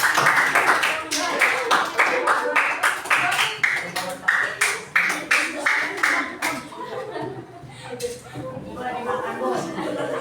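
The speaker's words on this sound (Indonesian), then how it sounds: "Oke, beri tepuk tangan untuk kelompok." A classroom of people claps in quick, lively applause for a student group, with chatter and a few chuckles mixed in, fading to murmuring talk near the end.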